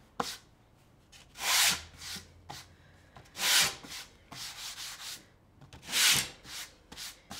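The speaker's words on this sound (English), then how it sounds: "We always like to sand in the same direction." Slow, rhythmic strokes of sandpaper rubbing by hand across a round wooden door-hanger board, several bursts of scratchy friction separated by short pauses, close and fairly loud.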